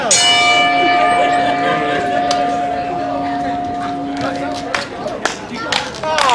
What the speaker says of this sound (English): All right, ring the bell.